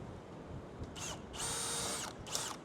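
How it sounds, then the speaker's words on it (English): A power drill drilling out rivets on a heavy-duty umbrella canopy frame whines in three bursts, the middle one longest, over a steady low background hum. "drill out each one"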